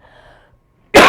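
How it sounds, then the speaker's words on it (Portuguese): A single sharp cough bursts out loud and close after a near-silent pause, from someone giving a talk. "Muito feio isso, eu tenho que tossir,"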